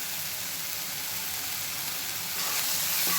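A steady, close sizzle and hiss of masala with ginger garlic paste sautéing in a hot pan, continuous and fairly loud with no speech.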